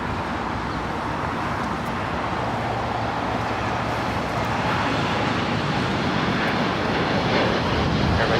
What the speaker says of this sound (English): This is Air Tahiti Nui, Flight 7, taking off to Papaete on the 787-9 Dreamliner.